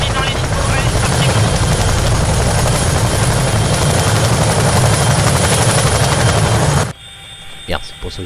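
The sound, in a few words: helicopter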